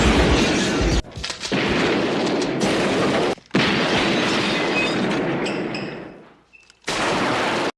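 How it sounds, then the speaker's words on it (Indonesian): Film gunfight with dense, loud bursts of gunshots and booming rapid fire, broken by short silent gaps and a fading tail before a final burst. "Setelah terjadi sedikit duel tembak-tembakan,"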